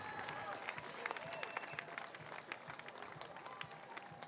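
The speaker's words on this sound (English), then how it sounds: "Here's the roar of the crowd," Crowd applauding and cheering at the Mount Marathon women's race finish line, a dense patter of clapping with scattered shouts, moderately distant, with a voice talking faintly underneath.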